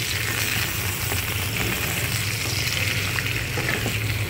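Cut pumpkin pieces fry in hot oil with a constant, loud, close sizzle and crackle. The bubbling stays even from start to finish with no talking.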